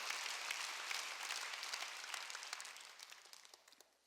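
Congregation clapping during a Korean sermon, a thick, even wash of many hands already underway, gradually thinning and fading toward the end.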